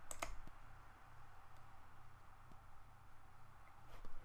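A few soft, isolated computer mouse clicks sound very faintly against a quiet room hum, as a build button is clicked.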